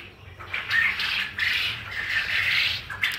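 Adult laying quail in a coop give repeated harsh, squawking calls in overlapping bursts, close and fairly loud, with some fluttering and no speech.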